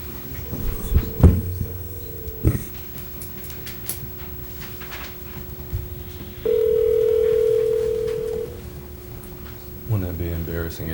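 A telephone dial tone in a city council meeting room, a steady held tone running under scattered room noise and thumps, with a louder separate tone for about two seconds and people talking near the end.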